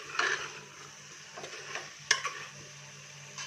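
A spoon stirs chhole (chickpea curry) in a pan with a faint sizzle underneath, making a few soft scrapes and one sharper clink, quiet and close, with no talking.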